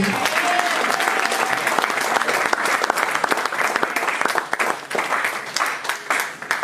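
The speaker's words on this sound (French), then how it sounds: "avec joie, nous acclamons très fort" A church congregation applauds loudly and steadily for several seconds, a dense wash of clapping hands filling the space close and full, with scattered voices mixed in.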